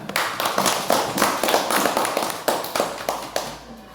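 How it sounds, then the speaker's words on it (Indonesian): A class of schoolchildren clapping hands together in a classroom, a rhythmic run of sharp, evenly spaced claps, loud and close, with a faint voice underneath. "Mari kita tepuk tangan."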